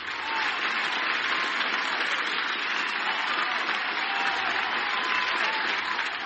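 Canned applause sound effect dropped into a podcast, a full, even wash of crowd clapping that runs uninterrupted from start to finish with no talk over it.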